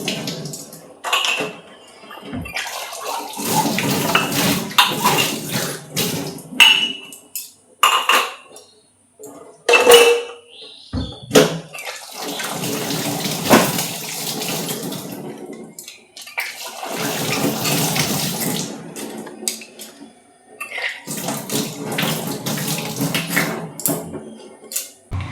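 Dishes are scrubbed and rinsed under a running tap in a home kitchen, with bursts of gushing water alternating with clinks of plates, pots and cutlery, close and loud, and no one speaking.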